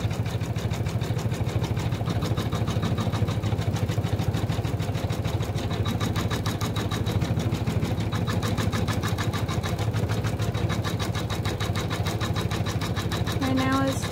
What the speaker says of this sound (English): Right now it's doing the satin stitching around the number 4, and then it'll stitch out the name.